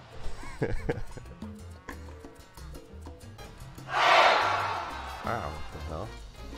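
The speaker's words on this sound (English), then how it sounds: "Just listen to all the cows." Cattle moo on a ranch, with a loud drawn-out low call rising above a mix of people talking and other scattered lowing, fairly close.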